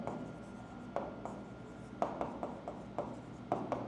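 Pen or chalk writing out a trigonometry problem, a run of short scratchy strokes and taps spaced irregularly over a soft steady room hum.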